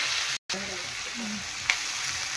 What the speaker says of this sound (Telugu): ఉల్లిపాయ, టమాటా, పచ్చిమిర్చి వేసుకొని మనం వేపుకోవాలి ఫ్రెండ్స్. కలర్ చేంజ్ అయ్యే వరకు వేపుకోవాలి దీన్ని.